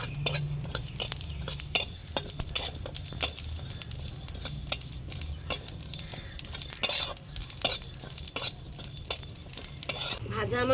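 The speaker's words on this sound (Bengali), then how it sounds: "কি সুন্দর চটর পটর করে আওয়াজ হচ্ছে" Whole spices crackling as they fry in a pan for a potato chop spice mix, with sharp irregular pops and clicks over a low sizzle and occasional utensil scrapes, close and steady throughout.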